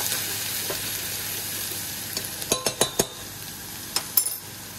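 Ginger and garlic frying in a pan give a low sizzle, followed by a quick run of metallic clinks and scrapes from stirring, then a couple more taps.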